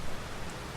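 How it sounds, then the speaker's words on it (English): Steady rain in Farming Simulator 22 hisses as a dense, even wash of noise, continuous and unbroken with no talk. "hopefully the rain will stop by then"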